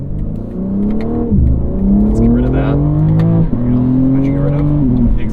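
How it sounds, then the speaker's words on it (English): A 2023 BMW M3 Competition xDrive Edition 50 Jahre engine revs with its exhaust sound mode switched on, giving loud, close rising pulls broken by short gear-change dips, repeated several times. "exhaust sound"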